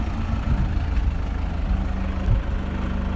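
A steady idling tractor engine, a 3ALP Hars 399S 4x4, rumbles low and continuous at close range during village harvest work, with a slight swell in the middle and no voices over it.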